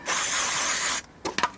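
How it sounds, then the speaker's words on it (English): A steady hiss of an aerosol spray onto a motorcycle chain for about a second, then stops, followed by a few faint clicks and rustles. "Spray on that."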